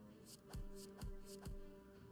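Cards shuffle in the Slay the Spire deck: three quick, crisp riffling swishes in a steady rhythm over a soft tonal background.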